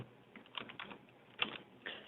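Quiet, close keystrokes on a computer keyboard tap out a drug name in an uneven burst of clicks with short pauses between them.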